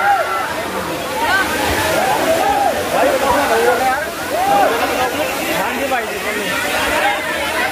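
A rushing waterfall of cold water near Haridwar and Rishikesh roars steadily, with sloshing and splashing, while people talk and call out over it.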